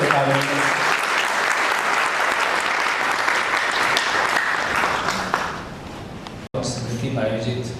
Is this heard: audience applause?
yes